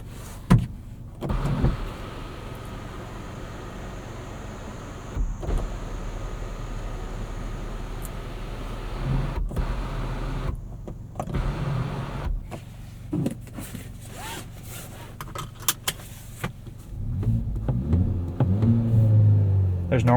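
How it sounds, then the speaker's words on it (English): Power sunroof on a 2024 Kia Forte GT opening inside the cabin, a faint whirring motor hum with scattered clicks and bumps, followed by louder rustling near the end. "And here's your sunroof."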